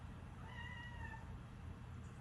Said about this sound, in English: That's my cat, Virgo.